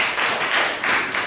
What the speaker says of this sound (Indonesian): terima kasih tepuk tangan untuk Bapak Suhaidi